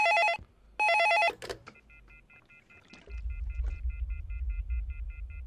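Telephone in a horror video game rings in two short electronic trill bursts, followed by clicks and a softer repeating tone over a low rumble.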